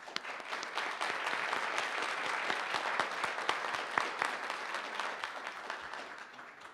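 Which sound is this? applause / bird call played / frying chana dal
applause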